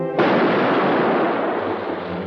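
Ship's cannon fires once on a sailing vessel at sea, a loud sudden boom that rolls into a long, slowly fading rumble with no talk over it.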